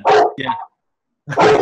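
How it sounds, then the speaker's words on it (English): A dog barks loudly and close by, a pair of quick barks followed by another burst after a short silence, with a person briefly speaking over it. "That's my dog."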